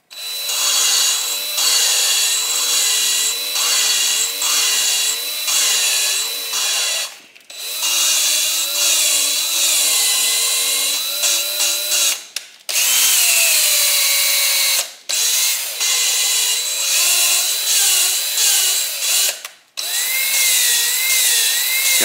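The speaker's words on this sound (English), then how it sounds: "Lapping the valves. A little grounding compound on the edge of the" Valves on a 1985 Honda XL600R motorcycle engine are lapped with grinding compound, a loud close scratchy rasping that sweeps back and forth in repeated strokes, broken by several short pauses.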